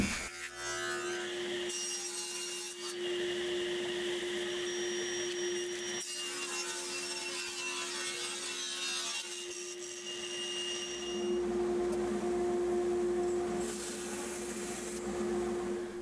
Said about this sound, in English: It's time to square this up and start slicing off some pieces